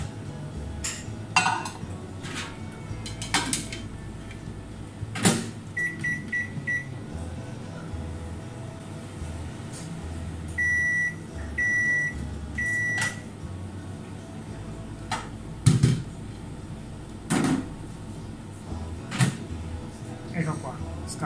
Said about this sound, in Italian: e la mettiamo nel microonde per 2 minuti